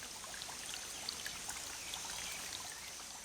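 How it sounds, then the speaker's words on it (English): Water trickles and flows from a once dried-up spring brought back by reforestation on Brazilian farmland, a faint, steady, gentle rush with no voices. "Thanks to the forest, water came back to the dried-up spring."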